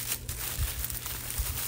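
Plastic packaging wrapped with tape crinkles and crackles close by in short, irregular bursts as it is handled and pulled apart.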